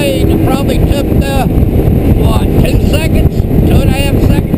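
A 2015 XP200 boat with a 115 outboard motor accelerating on a windy lake, a loud steady engine roar with heavy wind buffeting the microphone throughout.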